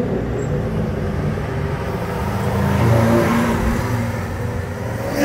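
A Lamborghini Aventador supercar revs and drives past on a Monaco street, a moderately distant engine drone that swells in the middle and fades again over several seconds.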